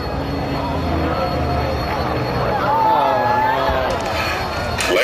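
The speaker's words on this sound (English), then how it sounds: "a single-seat piston-engine fighter, one of the most famous in history" A single-seat piston-engine fighter, the Jug, flies past with a loud droning engine roar that rises and falls, while crowd noise and faint voices sit underneath.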